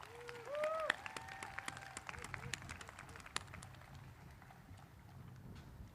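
Scattered applause from a school commencement audience honoring the Oxbridge Academy rock band, faint and distant, with a voice speaking briefly at the start before the loose claps carry on alone.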